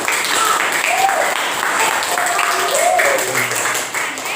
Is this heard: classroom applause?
yes